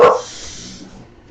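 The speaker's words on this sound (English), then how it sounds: "Yes, quit barking. Quit barking, silly girl." A dog gives one loud close bark at the start, followed by a quieter breathy hiss and a second sound beginning at the very end.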